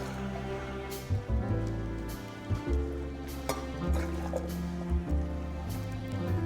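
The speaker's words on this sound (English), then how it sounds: "take our jug and we need to ladle some of this pasta water, 150 mils" Starchy pasta water is ladled from a pot into a jug for orange pasta, giving several separate pours and drips with clinks in between, close and clear and without talk.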